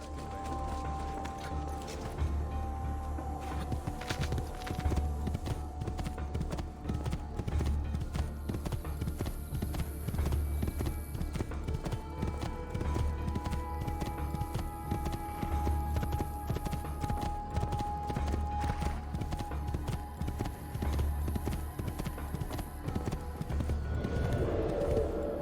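Hooves clatter continuously as a horse gallops through Assassin's Creed II, a fast steady clip-clop rhythm close by, with a brief whinny and game ambience behind it.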